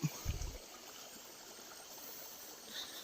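Water from a waterfall stream in a deep forest trickles and flows faintly and steadily in the background, after a couple of soft thumps at the start.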